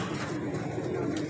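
Teddy pigeons coo in a steady low murmur, close by and continuous, with a faint background hum and no clear speech.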